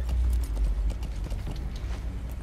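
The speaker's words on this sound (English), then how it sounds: "then bring your horse down here" Horse trotting in Metal Gear Solid V: The Phantom Pain, a steady run of rhythmic hoof clip-clops over a low rumble, moderately loud, with no speech.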